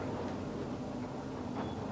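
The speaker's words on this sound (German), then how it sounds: "Der Blick aus einem fahrenden Zug." A moving train rolling along its rails, a steady, dense rumble heard from inside the carriage, with no distinct clicks standing out.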